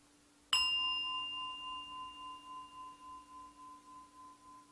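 A meditation bell is struck once, ringing out with a clear bright tone that hangs and slowly fades with a gentle pulsing shimmer in a quiet room.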